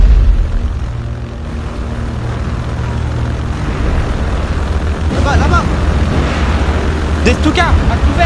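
Stuka dive bomber droning steadily overhead in an amateur war film, a low continuous engine roar filling the whole scene while voices shout and call out over it.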